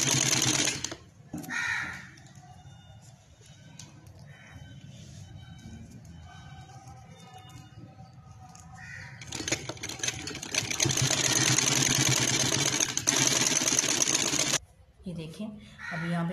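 A sewing machine stitches a sleeve in short bursts of rapid mechanical whirring separated by quieter pauses. Someone talks near the machine.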